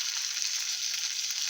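Spices sizzle steadily in hot oil in a pan for a traditional Maharashtrian panchamrut chutney, a bright continuous frying hiss, close and alone.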